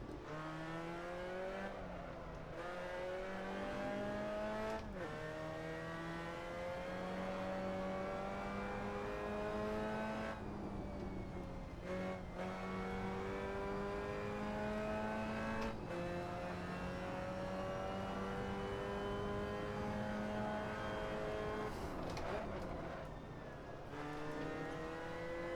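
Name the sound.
racing cars driving on a Gran Turismo track, video game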